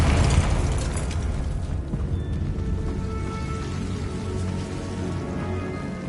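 A Confringo spell explosion in the video game Hogwarts Legacy: a loud initial blast followed by a long crackling, rumbling tail of debris.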